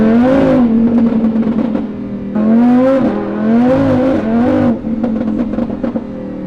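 A Lamborghini on snow tires accelerates hard on a wet road, its engine rising in pitch in loud, close surges, dropping briefly at each gear change before climbing again, with no talking.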